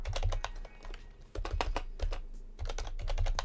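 Rapid, uneven clicking of fingers typing a country name on a computer keyboard during an online geography quiz, close and steady with brief pauses between bursts of keystrokes.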